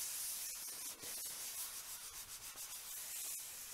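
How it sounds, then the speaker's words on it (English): Paper towel rubbing and wiping across a mat to remove hand sanitizer, a soft continuous scratchy swishing with uneven back-and-forth strokes, close and fairly quiet, with no talking. "Just spray a couple of drops of that and wipe with a paper towel."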